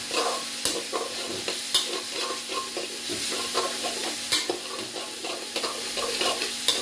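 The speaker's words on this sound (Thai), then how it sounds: "แล้วคั่วไปเรื่อยๆนะครับคั่วไปเรื่อยๆ" Pork being stir-fried dry for Thai pad kra pao, with steady sizzling and repeated scraping strokes of the spatula in the pan, close and continuous with no talk.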